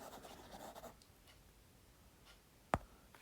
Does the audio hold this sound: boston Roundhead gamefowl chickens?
no